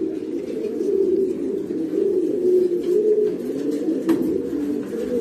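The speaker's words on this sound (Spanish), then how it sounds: "voy a enseñar las palomas que tengo" Domestic breeding pigeons in a loft coo continuously, close and warm, soft rolling low calls that swell and overlap with brief rustles between them.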